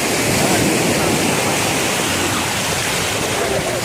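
Sea surf on a Turkish beach washes in as a steady, loud, close rush of broadband water noise, with no clear breaks between waves.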